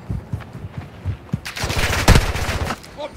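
Rapid machine gun fire in the video game DMZ rattles in a dense burst with one sharp louder shot, heard close amid game noise and faint voices.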